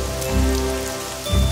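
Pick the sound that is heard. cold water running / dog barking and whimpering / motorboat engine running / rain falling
rain falling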